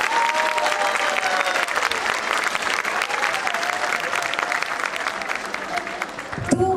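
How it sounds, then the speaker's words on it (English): Big audience at a school event applauding loudly and steadily, a dense wash of clapping that holds for several seconds before cutting off near the end, with faint crowd murmur underneath. "give them a big round of applause"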